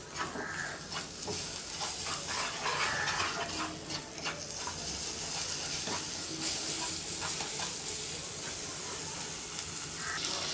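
Butter sizzles and fries in a pan for caramel popcorn, a dense continuous hiss broken by irregular crackles and stirring scrapes, close and fairly loud throughout with no talking.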